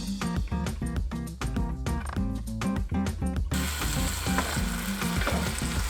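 Canned tomatoes with garlic in a pot, first rhythmic metallic clanks of stirring or opening for about three seconds, then a continuous loud hiss of sizzling close up.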